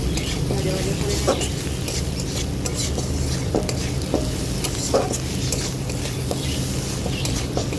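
Spices with turmeric and Kashmiri red chilli powder sizzle and fry in a pan, a steady close frying hiss with repeated scraping stirs and light utensil clinks throughout.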